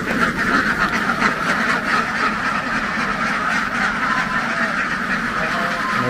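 A large flock of some 11,000 laying ducks on a farm in Vietnam's Mekong Delta quacks continuously, a loud, dense chorus of overlapping calls that carries on without a break.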